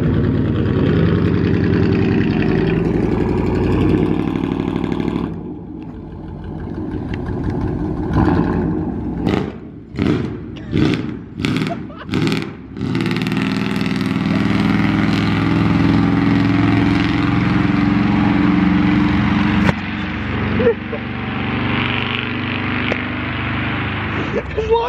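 A green pickup truck's engine runs with its muffler and resonator cut off, idling with a loud, raw, steady drone and a burst of sharp revs partway through, while people talk over it.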